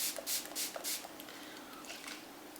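Several quick bursts of MAC Fix Plus makeup setting spray misted from a pump bottle, close and airy hisses in a rapid run of about four pumps, then softer trailing mist.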